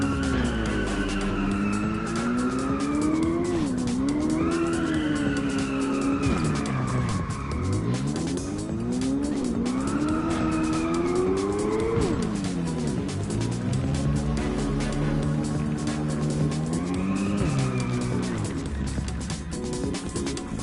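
A race car in the video game Inertial Drift revs and skids hard, engine pitch rising and falling in repeated sweeps with tire squeal, loud and continuous throughout.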